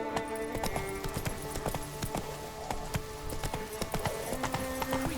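Roach, a horse in the video game The Witcher 3, gallops with a steady, rapid clip-clop of hooves, close and clear over a low ambient game backdrop.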